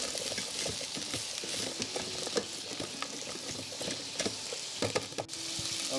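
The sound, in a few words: onion frying in a rice cooker for chicken bacon soup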